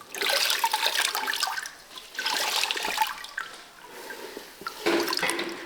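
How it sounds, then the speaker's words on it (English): Water splashes and drips as a wet tiling sponge is squeezed out over a bucket during floor tiling, three bursts of sloshing liquid with quieter gaps between, close and clear. "You wet the sponge and get all the excess water off here."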